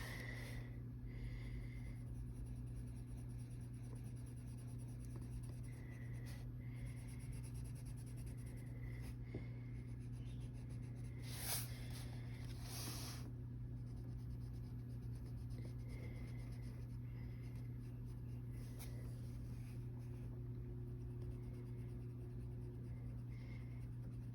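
New colored pencils scratching across the pages of a Lisa Frank coloring book, a soft, continuous series of close strokes and rubs with short pauses and louder flurries, over a low steady hum and with no speech.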